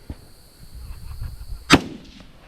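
A single sharp rifle shot fired on a shooting competition stage cracks out loud and close, standing alone against quiet low background rumble with a brief decaying tail.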